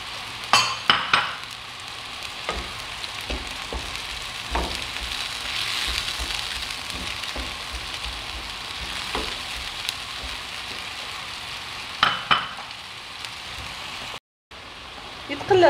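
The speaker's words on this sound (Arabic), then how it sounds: "خليط البصل مع طماطم والثوم يتقلى" Onion, tomato and garlic frying together in a pan for a chicken liver tagine, a steady close sizzle with occasional clinks and stirring knocks, running continuously with a short break near the end.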